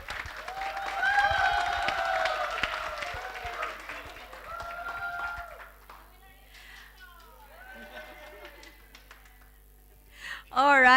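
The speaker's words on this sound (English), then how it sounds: "please give a round of applause for our mentors" An audience applauds mentors standing on stage at a water resilience challenge final, the clapping swelling briefly over music and voices, then fading to quieter sounds before a loud burst at the very end.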